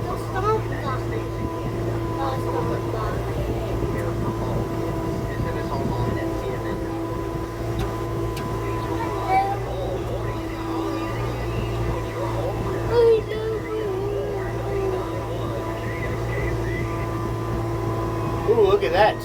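Tractor fitted with a stump bucket working outdoors, a steady droning engine hum with a low rumble that holds throughout, with a person talking over it nearby.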